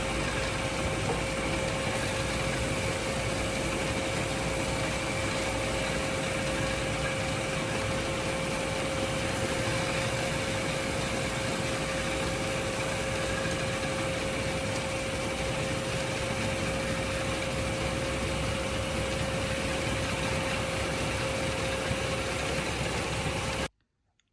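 A spindle moulder fitted with a sanding bobbin runs steadily while the edge of an MDF panel is fed past it, a constant close machine whine and hum with no talk, stopping abruptly at the end.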